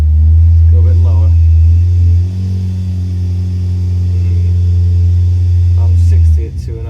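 A car engine drones loudly and steadily during a dyno run, with a drive shaft rattling beneath the deep rumble, and brief talk over it.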